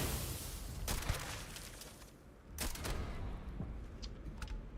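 Gunfire from a weapon in the video game Starfield, a few sharp shots and bursts standing out over a busy, rumbling battle background, fairly distant and soft overall.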